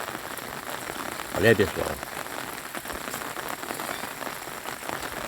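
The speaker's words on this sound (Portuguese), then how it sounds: "Muita chuva aqui em Martinópolis, Ceará." Heavy early-morning rain pours down in Martinópolis, Ceará, a constant close patter on surfaces, with someone briefly speaking over it near the start.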